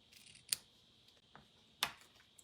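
Scissors trimming around an image circle on a paper Christmas card, three short crisp snips spaced apart, close and quiet with no talking.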